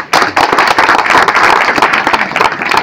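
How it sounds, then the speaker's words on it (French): An audience at a results ceremony at a school for the deaf breaks into loud, sustained applause, many hands clapping densely and close for the whole stretch. "Est-ce qu'on peut applaudir sur ça?"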